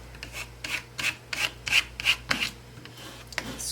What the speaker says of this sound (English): And scraping outward.